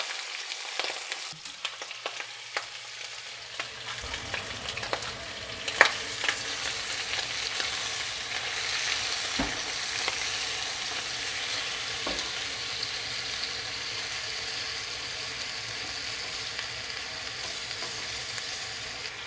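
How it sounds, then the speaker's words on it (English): Pork belly pieces sizzle and fry in a pan over medium-low heat, a steady crackling hiss with occasional pops and stirring scrapes, close and continuous without talk. "So I'm just like lightly brown the pork"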